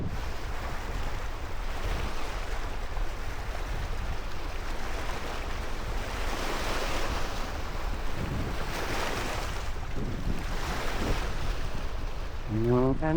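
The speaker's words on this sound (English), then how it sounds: "it's pretty windy, guys" Strong wind roars steadily into the microphone beside the water at Bonneville Dam during shad fishing, a loud, unbroken buffeting rush with surging gusts throughout.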